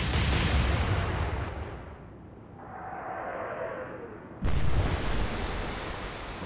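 Naval guns of a battleship firing in Atlantic Fleet, a heavy booming salvo that decays into rumble with a faint whistling shell, followed by a sudden second loud blast.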